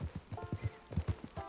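Horse hooves clip-clopping at a walking pace in Red Dead Redemption 2, a steady close rhythm of hollow thuds on dirt with no talk over them.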